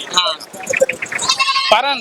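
Sheep bleating at an Ettayapuram livestock market, several calls in quick succession heard close under busy crowd chatter and people talking.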